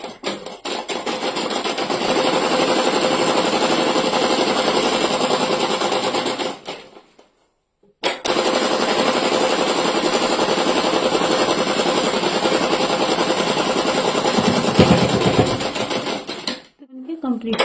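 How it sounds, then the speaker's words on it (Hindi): A sewing machine stitches a pajama waistband with a loud, steady whirring run, pauses briefly, then runs again for several seconds before stopping. A voice may be speaking under the machine noise. "इस पे सिलाई लगाती जाऊंगी ऐसे"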